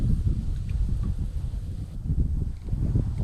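Wind buffets the microphone outdoors during a bait fishing session, a steady low rumble that swells in gusts and never lets up.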